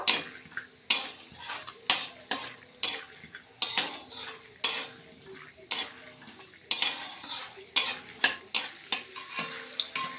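Peanuts frying in a pan, stirred with a utensil: repeated sharp scraping and clinking strokes in an uneven rhythm over a soft background sizzle, close and clear.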